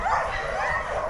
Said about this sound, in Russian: Это бывшая хозяйская собака.